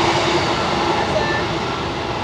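A train passes nearby with a loud, continuous rumble and rush of rail noise, steady throughout the brief moment.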